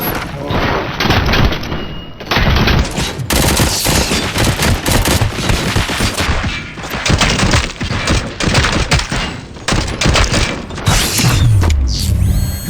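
Sustained heavy gunfire fills a firefight in RoboCop: Rogue City, a loud, continuous barrage of overlapping shots, thuds and mechanical clatter lasting over twelve seconds without letup.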